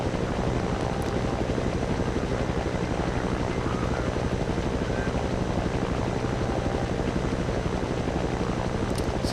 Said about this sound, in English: I'm not the best at flying helicopters. So we'll fly around here.